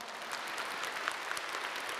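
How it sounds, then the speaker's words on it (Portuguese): A church congregation claps together in steady, dense applause, faint and distant, sustained for a couple of seconds without talking over it. "uma salva de palmas para esse homem"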